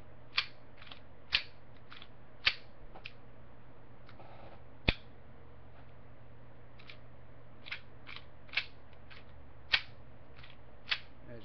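KJW 1911 full metal gas blowback airsoft pistol, a series of sharp metallic clicks spaced about a second apart, close and crisp against a quiet background, with one louder snap midway.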